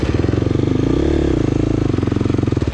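A 2023 KTM 350 XC-F dirt bike engine drones steadily in second or third gear during a scramble race, a loud, buzzing, close engine note that rises and falls slightly as the bike is ridden.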